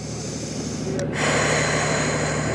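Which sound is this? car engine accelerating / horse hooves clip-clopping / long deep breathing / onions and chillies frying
long deep breathing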